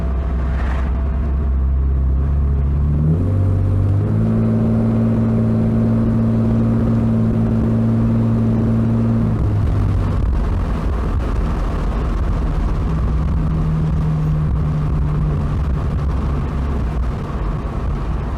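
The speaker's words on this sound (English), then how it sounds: "I'm driving with the windows open because Florida, hashtag AC delete. Hopefully the wind noise isn't too bad." A BMW E46 fitted with urethane motor mounts drives with the windows open. A steady engine drone shifts pitch, then gives way to broad, rushing wind noise and low rumble that continue throughout without talk.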